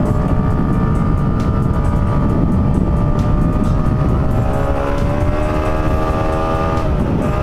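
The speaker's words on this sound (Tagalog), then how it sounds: "Grabe, makina na ito. Gustong-gusto talaga ibirit." A new motorcycle's engine drones loudly and continuously, its pitch climbing and shifting as it revs, with heavy rumble and wind noise throughout.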